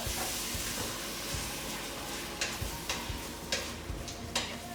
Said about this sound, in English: Okay, give it a good stir.